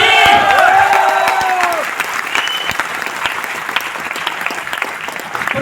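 A large audience at the Vestige celebration event applauds loudly and steadily. Crowd noise joins the clapping, and brief tonal whistling rises over it at the start.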